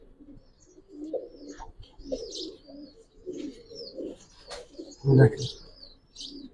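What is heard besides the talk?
pigeon (Giribaz silver pigeon) cooing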